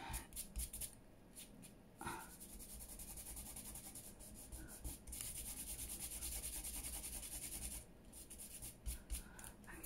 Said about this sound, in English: Let's give that a little bit of a rub there, because just a little bit of glue's come over the top